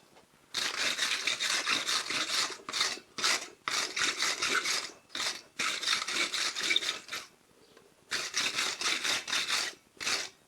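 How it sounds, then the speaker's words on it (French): Brushing a workpiece, part of a handmade sliding gate latch, with a brush: repeated close raspy scrubbing strokes in bursts, with brief pauses between passes and no talking. "Voilà, un bon coup de brosse."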